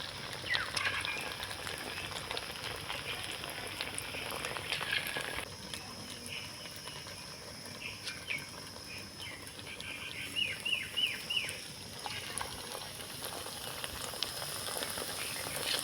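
Continuous crackling sizzle of leftover-rice kurkure snacks deep frying in hot oil, a dense bubbling hiss that shifts slightly as the batch settles.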